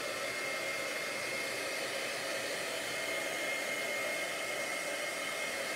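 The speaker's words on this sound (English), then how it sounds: "I'm going to pull out my heat gun, and I'm going to dry it just a little bit" A heat gun drying wet paint on an art journal page gives a steady, close, unbroken blowing whoosh with a constant motor hum throughout, and no voices.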